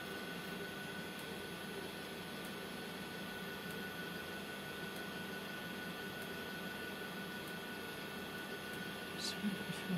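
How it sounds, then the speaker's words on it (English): A vacuum chamber used for degassing resin runs with a steady, even mechanical drone and hum that holds throughout with no pauses, close and moderately loud, with a slight rise at the very end. "I'll run this through my vacuum chamber and I'll be right back."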